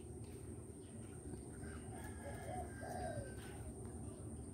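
A caged dove coos softly a couple of times, faint against a steady low background rumble.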